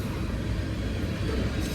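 New BNSF grain cars roll past on a morning freight in Mulvane, Kansas, giving a steady, fairly loud rumble of wheels and cars throughout, with no talking.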